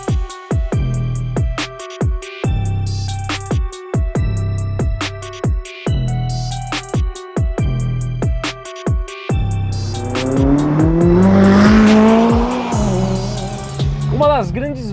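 McLaren 570S Spider sports car on São Paulo city streets, its engine rising and falling in a few loud revs near the end, following a stretch of steady pulsing music.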